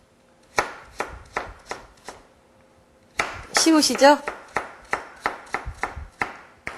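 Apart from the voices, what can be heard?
knife chopping potatoes to onion size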